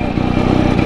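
A WSK 125 motorcycle engine running steadily while riding slowly straight across grass, a loud close two-stroke putter with a fast even pulse and no talk.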